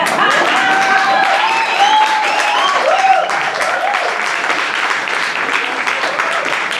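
Audience applause at a motivational masterclass on emotional intelligence, a loud continuous patter of many hands with a few voices calling out over it.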